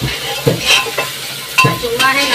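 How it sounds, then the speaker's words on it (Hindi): Ginger and garlic fry in a pan for a khichdi and chili-tomato thecha, with a steady sizzle broken by several scraping stirs of a spoon every half second or so, close and clear, with no talking. "अदरक लहसुन को भी खूब अच्छे से भून के लेते हैं"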